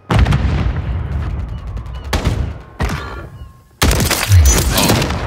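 Heavy shotgun blasts in a Call of Duty MW3 match, several loud booming shots in quick succession with sharp onsets and short decays, close and dominating.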